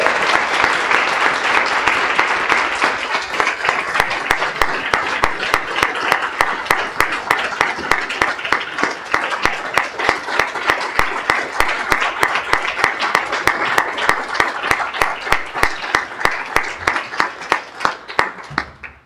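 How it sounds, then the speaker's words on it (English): A long round of hearty audience applause, loud and even with many crisp individual claps, sustained for nearly twenty seconds before tapering off at the end. "you can give her a big round of applause."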